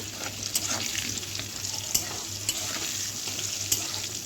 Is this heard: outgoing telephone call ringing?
no